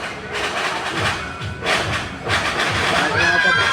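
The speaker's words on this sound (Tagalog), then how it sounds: "Mga fireworks. Fireworks display. Kaya ingay eh." New Year fireworks bang outside as a string of repeated low thumps and bursts at varying distance, continuous through the clip, with people talking over them.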